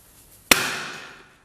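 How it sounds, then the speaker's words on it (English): A single sharp bang cracks out, followed by a brief fizzing, crackling decay that dies away within a second. "So I'm adding a firecracker."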